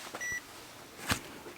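A heat press gives a short electronic beep, faint against a quiet room with a brief thump shortly after; no other sounds stand out.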